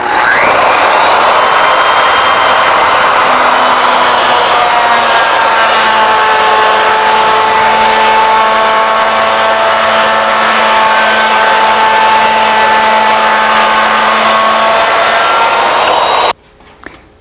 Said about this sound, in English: we'll close the split nut onto the lead screw, bring it up to the starting position, and make our spiral cut